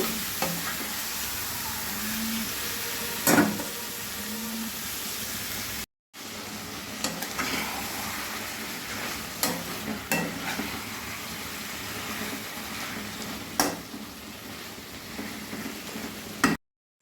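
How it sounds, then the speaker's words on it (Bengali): Chicken pieces fry and sizzle steadily in a pan over a medium-high gas flame, with a continuous crackling hiss, occasional scrapes of stirring, and a brief cut in the middle. "গ্যাসের ফ্লেম মিডিয়াম টু হাই রেখে আমি চিকেন রান্না করে কষে নেব"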